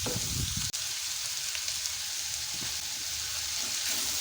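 Onions sauté with a little salt in a pan for beef curry, giving a steady close sizzle with a sharp utensil knock near the start and occasional stirring scrapes.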